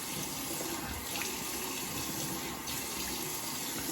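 Warm tap water runs steadily into a sink while a razor and face are rinsed after shaving, a continuous close splashing flow with no talking.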